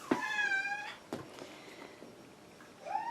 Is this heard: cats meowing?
yes